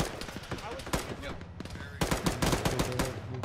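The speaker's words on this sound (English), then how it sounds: "He's shooting at us." Bursts of rapid rifle and machine-gun fire in the military shooter Arma 3, fairly distant and moderately loud, with a denser volley in the second half.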